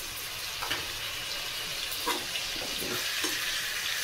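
Tomato puree frying in a hot pan over a high gas flame for chicken curry gives a steady, close sizzle and hiss, with a few soft stirring scrapes along the way.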